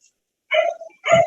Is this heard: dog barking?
yes